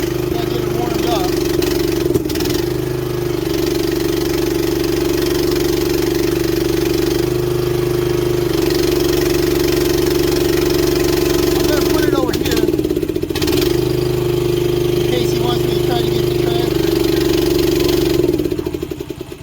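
A cold engine on a machine unused this year idles close by while it warms up. It gives a steady, loud rumble with a few brief surges and rattles along the way, and no voices are heard.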